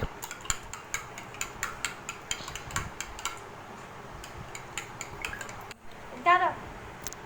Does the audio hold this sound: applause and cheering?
no